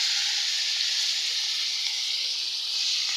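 Hilsa fish pieces fry in hot oil in a home kitchen, giving a steady, bright sizzle and hiss that runs evenly throughout without talk.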